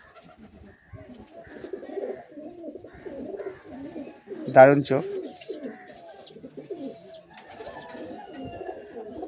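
Pigeons from a flock of long-flying homing birds coo softly beneath continuous male speech, with one louder, closer coo standing out midway.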